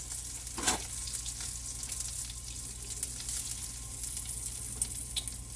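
Sausages fry in a pan on a home stove, a steady close sizzle running throughout with a brief louder hiss and faint clinks of cooking utensils.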